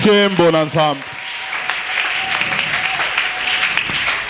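After a brief spoken voice, a church congregation breaks into loud, sustained applause that continues evenly to the end.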